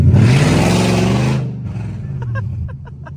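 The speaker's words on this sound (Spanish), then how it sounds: "como suena este carro ahora" An Infiniti M45x fitted with Nissan Titan headers revs loudly up close, a harsh, raspy roar for about a second and a half before dropping back to a lower idle rumble.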